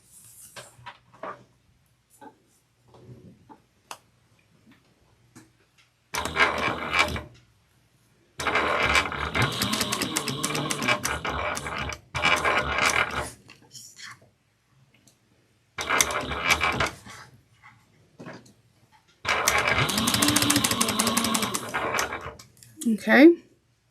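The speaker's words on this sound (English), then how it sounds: "we're going to stitch down 1/8 of an inch down both sides" A sewing machine stitches a small leather-style mini wallet along both sides, running in several bursts of a few seconds each with quiet pauses between, fairly close and clear.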